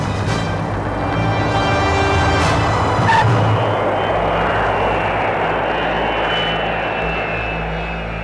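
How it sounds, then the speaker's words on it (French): A Cessna light aircraft taxiing on an airfield toward an active runway. Its engine gives a steady, fairly loud drone with a constant low hum that stays even throughout, with no talk. "le pilote du Cessna ne se rend pas compte qu'il va traverser une piste en service"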